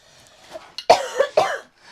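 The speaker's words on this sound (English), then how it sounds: "I got some mohair down my throat and had a coughing fit" A close, harsh coughing fit: several rough coughs in quick succession, then quiet.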